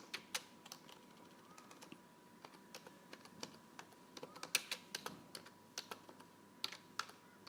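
Computer keyboard typing as a website name is entered, a quiet irregular patter of light key clicks at close range, with no voices.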